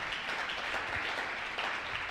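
Church congregation applauding during a sermon, a steady, dense wash of clapping filling the whole moment at moderate level with no talk over it.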